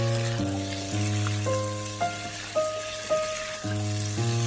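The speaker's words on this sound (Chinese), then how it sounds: "再把胡萝卜加进来，土豆、蒜片、花生米全部都加进来，再把它们翻炒均匀。" Carrots, potatoes, garlic slices and peanuts stir-fried in a pan give off a steady, close sizzle with a few soft stirring knocks, under a background of sustained music.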